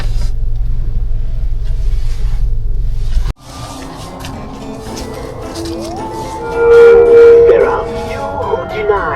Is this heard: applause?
no